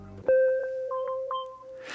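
A synth bell sample from RIP speakers strikes once with a bright sustained tone, followed by a few softer pitched repeats and a higher note ringing over it, close and alone, ending in a burst of hiss.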